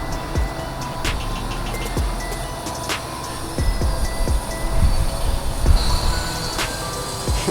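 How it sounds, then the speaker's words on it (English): A QuickJack automotive lift lowers a car with a steady hiss, punctuated by repeated metallic clunks and clicks close by. "And now we can lower the car."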